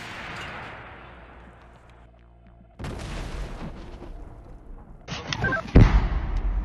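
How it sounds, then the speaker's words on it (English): Russian artillery shelling Ukrainian bunkers, heavy booms and blasts at mid distance, broken by abrupt cuts with rumbling explosions and a loud close impact near the end. "Russian artillery is intensively shelling the bunkers of the Ukrainian armed forces."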